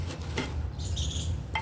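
A spoon scrapes and clinks against a pot of mutton curry cooking over charcoal in a few short strokes, with faint metallic rattles in between.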